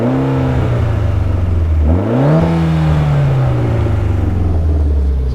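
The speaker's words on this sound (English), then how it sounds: "This car, I did mention, has an aftermarket exhaust and it sounds awesome." A 2013 Mitsubishi Lancer Evolution X GSR with its turbocharged 4B11T engine and an aftermarket exhaust rumbles loud and close, rising through one quick rev before settling back into a deep, steady idle.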